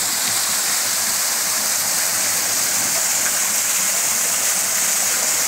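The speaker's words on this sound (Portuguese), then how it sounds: "uma cachoeira dessa natural" A natural waterfall on a cacao farm rushes steadily, a loud, even hiss of falling water heard close by with no break and no voices.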